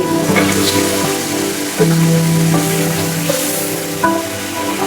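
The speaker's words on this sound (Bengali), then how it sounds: "এবারে ভেজে রাখা মাছগুলোকে দিয়ে দিব।" Pieces of fried rui fish are added to a pan for a thin rui fish curry, and the pan sizzles steadily at close range over a faint tonal background with no talking.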